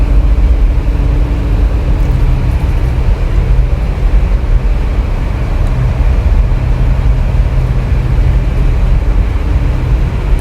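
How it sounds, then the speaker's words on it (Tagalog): A Daihatsu DK20 diesel generator engine runs steadily in a ship's engine room, a loud, continuous low mechanical drone with no pauses or changes across the whole stretch. "So generator pala namin na model DK20 Daihatsu"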